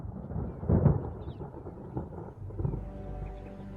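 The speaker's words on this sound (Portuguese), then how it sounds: "Ao longo de Botsuana, nuvens de tempestade se formam." Thunder from storm clouds over the Botswana Kalahari rolls in low deep rumbles, one heavy surge early and softer grumbles after, distant and sustained with no voices.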